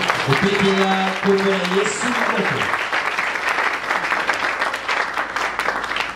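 A worship congregation bursts into loud, sustained applause that fills the space, with a brief voice and tonal sounds at the start before the clapping continues evenly.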